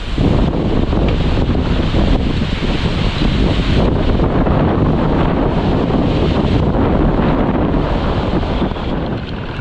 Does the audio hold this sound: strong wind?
yes